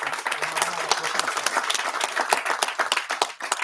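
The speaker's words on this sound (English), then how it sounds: "I think we should give our chair a round of applause" A ceremony audience claps for the chairman at a ramp and pump station commissioning, a dense run of individual hand claps at moderate distance, with faint murmuring underneath.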